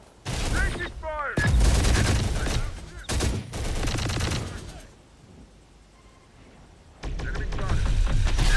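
Video game gunfire in Terminator: Dark Fate - Defiance, with loud, dense bursts of automatic fire and battle noise that fall briefly quiet and then resume, along with short in-game voice callouts.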